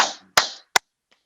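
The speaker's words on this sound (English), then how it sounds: "give a round of applause for tonight's honorees, Jake and Carol Wishnia" Three sharp handclaps, loud and close, spaced about a third of a second apart with a faint tap at the end, following a call to applaud honorees Jake and Carol Wishnia at a tribute.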